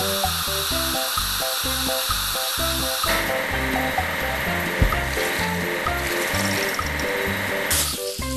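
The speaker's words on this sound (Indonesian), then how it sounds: "Kita perlu mencuci mobil pelapis batu jalan." Water spray washes a road paver in a construction video game, a steady hissing wash over looping upbeat background music with rhythmic beats throughout.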